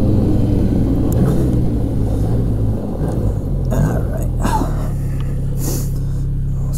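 A 2016 Arctic Cat Pantera 3000 snowmobile engine runs at full throttle on snow, a loud and steady roaring drone close by that holds without a break for the whole stretch.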